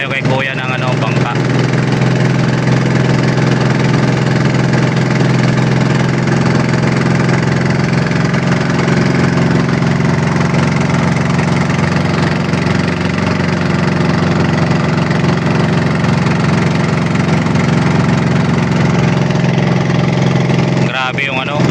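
A rented boat's engine runs steadily on a river with a strong current, a loud continuous low drone at a near distance, with no pause throughout.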